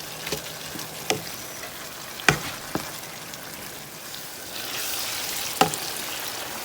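Ground beef seasoned with adobo and pepper sizzles softly in a pan as it cooks down, a faint steady fry broken by a few sharp utensil clicks and scrapes, with no talking.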